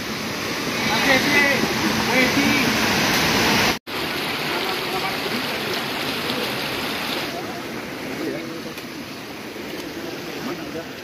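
A river stream flows along a hiking trail toward Puncak Paseban in Sukamakmur, a steady, close, broadband rush of water that runs continuously apart from a brief dropout near the four-second mark.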